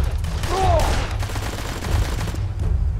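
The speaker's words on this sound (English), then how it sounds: "we got a shooting scene again" Rapid gunfire crackles through a shooting scene in the video game Blues and Bullets, repeated bursts over a low rumbling background score.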